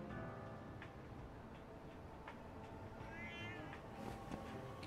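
A cat in the video game Lost Judgment gives a couple of soft, faint meows over a steady ambient game background.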